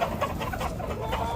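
Chickens cluck at a poultry market where various birds are sold, including ducks, turkeys, quail and pigeons, a busy continuous mix of clucking calls over a steady crowded background.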